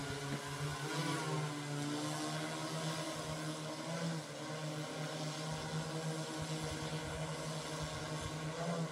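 An agricultural spraying drone works over a sugarcane field, giving a steady propeller drone with a constant tonal hum that holds throughout, moderately distant and without talk.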